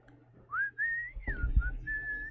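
A person whistles a short, bright melody during a pool match, with a few sustained and gliding notes in rhythmic phrases over faint background noise and a soft thump partway through.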